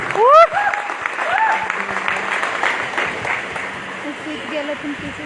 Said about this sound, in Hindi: एक बार जोरदार धमाकेदार तालियां सर के लिए।